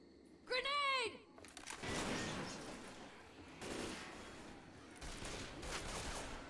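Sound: gunfire shooting from above in a video game

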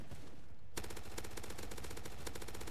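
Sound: gunfire from the Roblox video game Zombie Uprising

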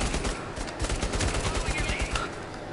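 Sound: gunfire in the video game Bravo Team

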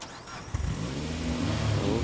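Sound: car engine starting in video game State of Decay 2

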